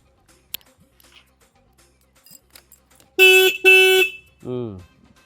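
A person imitates a car horn with two loud, buzzy honks in quick succession, followed by a short vocal sound after a few quiet moments.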